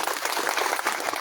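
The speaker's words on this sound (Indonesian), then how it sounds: "Itu tepuk tangan." Applause at a send-off and welcome ceremony for a district police chief, a short burst of dense clapping, loud and close throughout.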